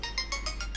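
A phone ringing with an incoming call: a rapid, regular series of bright electronic ringtone pulses, fairly quiet and heard on its own.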